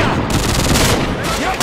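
A dense, loud burst of automatic gunfire from the video game Call of Duty 4: Modern Warfare, close and continuous over under two seconds, with a voice talking faintly beneath.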